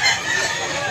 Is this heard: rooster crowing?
yes